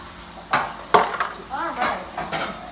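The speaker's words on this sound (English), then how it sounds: "I'm going to mix up my chicken again real quick." A utensil scrapes and clatters as chicken is stirred in a skillet over a soft sizzle, with a few irregular stirring knocks and a brief voice.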